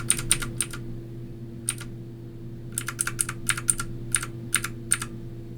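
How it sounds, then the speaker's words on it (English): Arrow keys pressed on a computer keyboard, sounding as crisp, close clicks in short bursts and scattered single taps over a low steady hum, with no talk. "I'm just using the right and left arrows on my keyboard"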